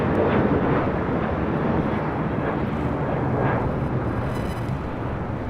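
An American Airlines Boeing 737-800 takes off at LAX, a steady broadband jet roar that fills the whole stretch at high level, with no break and no voices.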